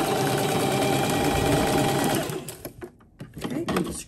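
Sewing machine stitching fabric for a reversible dog bandana, a steady close whirring run for about two seconds that then stops and gives way to handling noises and a voice.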